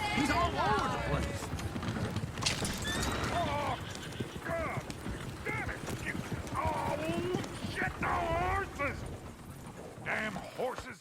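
Horse hooves clip-clopping at a steady trot in the video game Red Dead Redemption 2, mixed with coach creaking and people talking and shouting over them.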